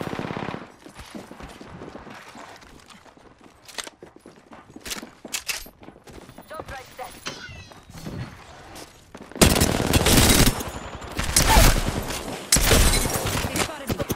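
Gunfire in a video game: sparse scattered shots and clatter early, then loud sustained bursts of automatic fire in the latter half, with a voice talking over parts of it.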